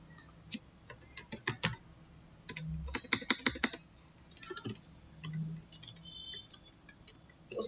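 Numbers are typed on a computer keyboard in bursts of crisp, close key clicks, a quick cluster in the middle, with no talk.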